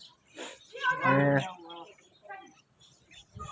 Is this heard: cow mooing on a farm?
yes